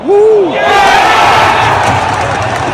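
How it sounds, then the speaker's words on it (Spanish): Stadium crowd at the Etihad Stadium erupts after a Manchester City goal in a Champions League match against Copenhagen, a loud sustained roar of cheering and shouting opening with a rising whistle-like yell, dense and close throughout. "acaba de hacer gol en Manchester City. Así que la gente empieza a aplaudir y esto es una locura"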